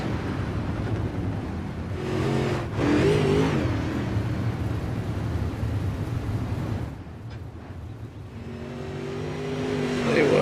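Race cars from a modified-class season opener roar and rev close by, engine pitch rising and falling as they jostle near the finish, a loud continuous drone with a brief dip before building again.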